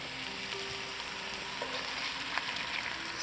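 Salmon fries in a pan until crispy, giving a steady, close sizzle that holds evenly throughout with a few brief pops.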